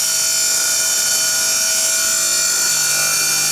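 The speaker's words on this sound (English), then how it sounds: "Crush it to become sand." A glass-crushing machine grinds bottles down into sand, a loud, close, continuous mechanical whine and rush that stays steady throughout, with no voices.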